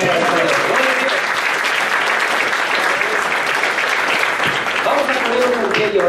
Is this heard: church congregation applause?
yes